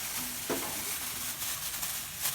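Onion dropped into a pot sizzles at once, a close crackling fry with light stirring scrapes over a couple of seconds, during home cooking of Korean beef and radish soup, with no talk.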